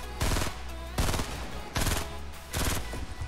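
Semi-automatic gunfire in a Fortnite 50 vs 50 battle comes in four loud, close bursts of rapid shots, spaced just under a second apart with ringing decay between them.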